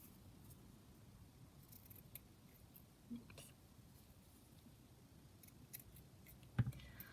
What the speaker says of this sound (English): just going to kind of cut around it so it's not quite so massive, the piece of lace